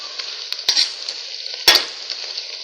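Chopped onion frying in a pan, softening as it cooks for spinach, with a steady close sizzle and occasional scrapes and clacks of a stirring utensil, no voices.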